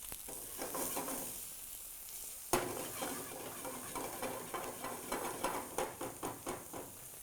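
Sliced onions, ginger and green chillies fry in hot oil for egg bhurji masala, a steady broadband sizzle with a sharp clatter as ingredients drop into the pan, then rhythmic stirring scrapes over the crackle.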